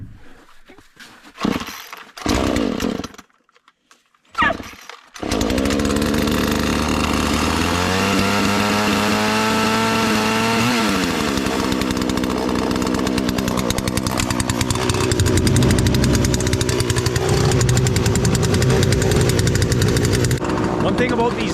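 A Husqvarna 120 Mark II chainsaw, after a few sputtering pull-start attempts, fires up and runs loud and close, its two-stroke engine revving and idling continuously while a person talks over it.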